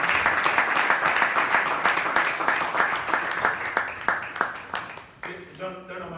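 A church congregation claps in a steady, rhythmic beat, loud and close. The applause thins out toward the end as voices take over.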